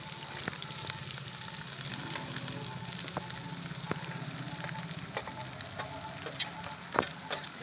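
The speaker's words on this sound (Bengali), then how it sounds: "সব সবজি একসাথে ঢেলে দিয়েছি ভেজে নেওয়ার জন্য" Mixed vegetables fry in a pan over a clay stove, giving a steady close sizzle with crackling fire and occasional sharp pops and clicks throughout.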